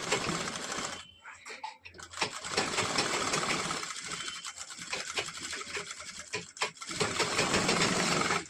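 A sewing machine runs in loud, buzzing bursts while stitching a katori blouse and backstitching to lock the seam, stopping briefly a few times before whirring on again.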